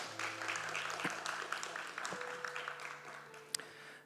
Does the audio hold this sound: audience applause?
yes